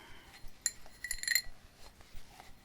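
A slightly dirty glass being handled at close range, with a few light clinks and taps clustered mid-clip over soft background rustle, no voice.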